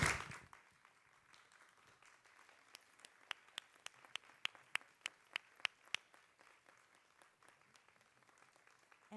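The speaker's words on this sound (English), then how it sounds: "you should stand up and give them a huge round of applause" Scattered clapping at a school curriculum and instruction committee meeting, starting sparse and swelling into a short run of sharp, distinct claps from a small audience before fading, with a little murmur.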